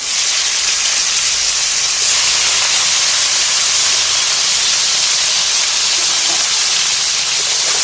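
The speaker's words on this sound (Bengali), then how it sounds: "বাকি তেলের উপরে কপিগুলো তুলে দিচ্ছি" Loud, continuous hissing sizzle of cauliflower frying in hot oil, steady and close throughout.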